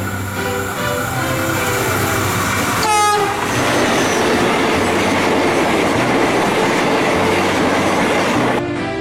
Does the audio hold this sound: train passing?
yes